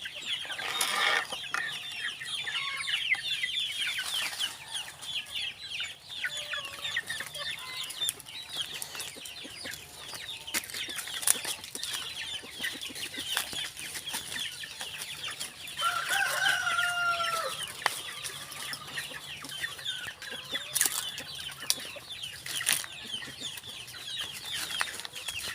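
Native chickens about two months old cluck steadily in a farmyard, with a rooster crowing several times through a busy, continuous backdrop of poultry noise and no talk.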